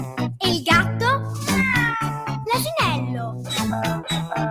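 An Italian radio host playfully imitates a cat meowing in a series of drawn-out, wavering, sing-song meows, close and loud, as part of a segment on animal sounds.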